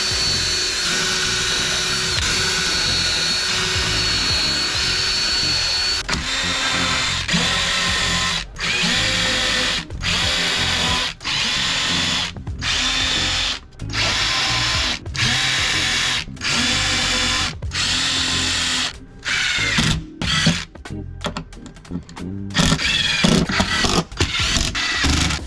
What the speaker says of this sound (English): I'm gonna use my countersink bit to make some countersink holes.